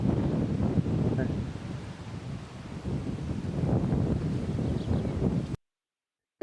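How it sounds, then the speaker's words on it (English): Steady, rough wind buffets the microphone on a Portuguese hillside in a back garden for about five seconds, then cuts to silence. "It was very windy, yeah."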